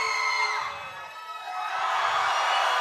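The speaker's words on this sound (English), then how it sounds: "Scream for the one you want." A festival audience screams and whoops loudly in a contest, a dense, sustained wall of cheering voices that swells, dips briefly and rises again.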